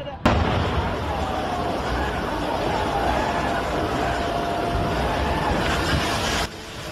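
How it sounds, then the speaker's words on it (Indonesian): A fierce fire rages at an oil storage warehouse in the Milenium industrial estate in Tangerang, a dense, continuous roaring din with crackling bursts and a tonal wail running through it, starting abruptly and cutting off near the end. "Kebakaran hebat yang disertai ledakan melanda sebuah gudang penyimpanan oli"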